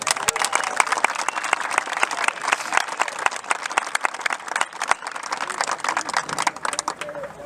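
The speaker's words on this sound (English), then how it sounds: "I think it really deserves a big round of applause" A large outdoor crowd at a golf tournament trophy presentation applauds the course crew, dense sharp clapping that stays loud and lively for several seconds with a few scattered voices in the mix.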